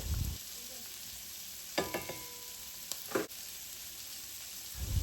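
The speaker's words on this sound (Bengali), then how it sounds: "পেঁয়াজটা একটু সফট হয়ে গেলেই আমি এখানে চিংড়ি মাছগুলো অ্যাড করে দেব দিয়ে দিচ্ছি" Prawns and onions fry in a pan with a low, steady sizzle, punctuated by a few sharp scrapes and clinks of stirring, heard close and fairly quiet.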